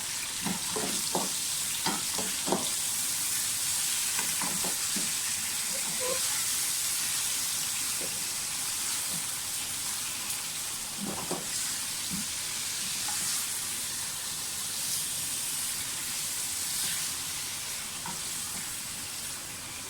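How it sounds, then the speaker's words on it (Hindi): Chicken pieces fry in a pan for chicken karahi, giving a steady, close sizzle throughout with occasional clacks and scrapes from stirring. "चिकन को थोड़ा सा फ्राई कर लेंगे पहले।"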